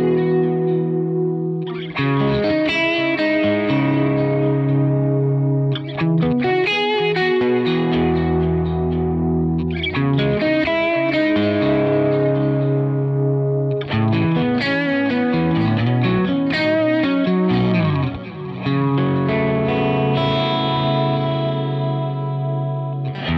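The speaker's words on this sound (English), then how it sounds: "if you want a more sort of modern sounding delay, we can switch it down to the precision delay." An electric guitar plays chords and arpeggios through a UAFX Del-Verb pedal set to its precision delay, with clean, repeating echoes trailing each phrase in steady, loud passages and no talking.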